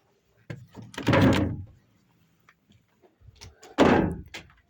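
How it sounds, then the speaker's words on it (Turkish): A newly installed door is shut twice in a building under construction, each a loud close thunk with rattle, separated by a few seconds of quiet handling noise. "Kapıyı koydum."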